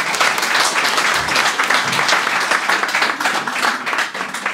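A crowd applauds at a book presentation, dense sustained clapping filling the room evenly, loud and continuous without any talk over it.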